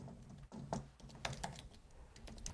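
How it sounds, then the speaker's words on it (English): Fingers type on a computer keyboard at close range, a quick run of irregular key clicks and taps with no voices over them. "Create your free account by typing in your name, email, birth date, and password."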